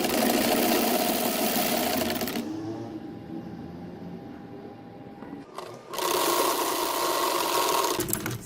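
A sewing machine stitches down the folded placket strip of a six-month baby boy's shirt, whirring loud and close in two steady runs separated by a short quiet pause, with no talking.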